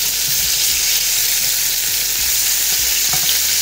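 Salted chicken breasts fry in a pan with a loud, dense, continuous sizzle, close up, with light occasional knocks and shifts of the meat underneath and no voices.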